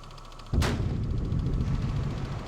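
A depth charge detonates in the naval video game Victory at Sea Atlantic, one sudden heavy blast followed by a long rumbling roar that stays loud to the end.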